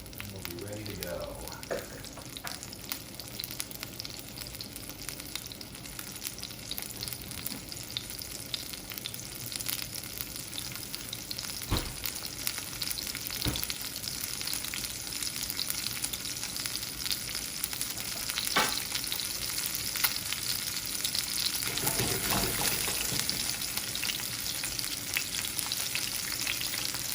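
Fish for fish tacos frying in a non-stick pan, an even bubbling sizzle that grows slightly louder over time, with a few light utensil scrapes.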